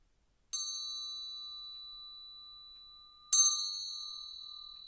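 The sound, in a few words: bell struck once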